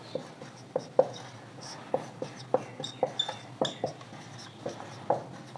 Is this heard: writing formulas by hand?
yes